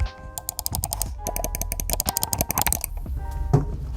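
EKSA EM600 budget gaming mouse buttons clicked in rapid runs of crisp, sharp ticks, close-miked, with short pauses between bursts and a soft thump near the end.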